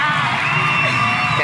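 A studio audience on a live talk show cheers, whoops and shouts in a loud, sustained burst that fills the whole moment, with no clear clapping standing out from the crowd roar.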